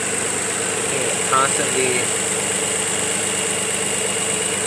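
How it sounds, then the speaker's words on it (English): A car engine with a coolant leak and failing head gasket idles unevenly with a low, steady rumble and slight knocking, a brief voice speaking over it near the middle. "While the engine is running,"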